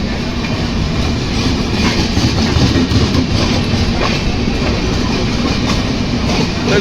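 A crowded long-distance passenger train from Bangalore to Puri rolls steadily along the rails, a loud continuous rumble with faint wheel clatter running through the whole stretch and no voices.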